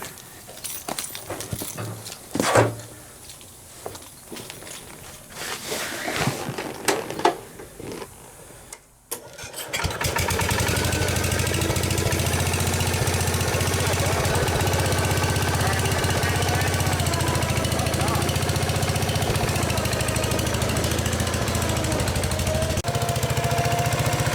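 An old tractor, grandfather's machine idle for years, with rustles and clanks at first, then the engine catches around the ten-second mark and runs loud and steady with a rough, chugging drone to the end.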